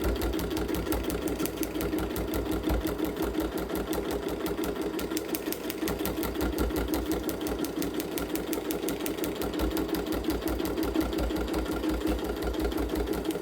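A sewing machine stitches a fabric patch onto water-soluble stabilizer, running steadily with a fast, even mechanical clatter of needle strokes, close and continuous throughout.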